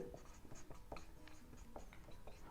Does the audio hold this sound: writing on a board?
yes